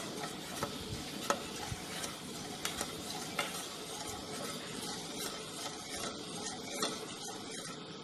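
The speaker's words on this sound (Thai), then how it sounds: "ตั้งให้น้ำกะทิเดือดเลยนะครับ ให้แตกมันครับ แล้วก็คนไปเรื่อยๆครับ" Coconut milk boiling in a pan while being stirred, a soft bubbling simmer with intermittent spoon scrapes and taps, fairly quiet and without talk.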